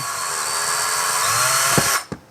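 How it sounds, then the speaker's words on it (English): A power drill whines steadily at high speed, close and loud, boring a small hole in the center of a motorcycle fuel injector valve cap, then stops abruptly with a couple of short clunks. "I'm simply going to drill a little hole in the middle of the valve cap"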